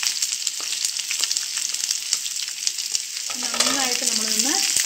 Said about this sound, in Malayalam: എണ്ണ ചൂടായി വന്നിട്ടുണ്ട്. അതിലേക്ക് നമ്മൾ വേവിച്ച് വെച്ചിരിക്കുന്ന ഉരുളക്കിഴങ്ങ് ഇട്ട് കൊടുക്കുക.